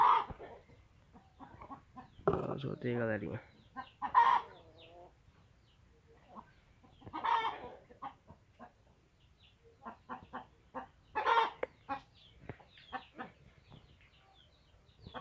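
A hen clucks after laying eggs, with repeated short clucks and cackles in several clusters, near and moderately loud, while someone talks briefly at the start.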